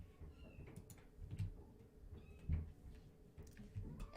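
A pet cat meows in distress from inside a house, several short cries spread across the moment at moderate distance, with faint household knocks and rustles underneath and no one talking.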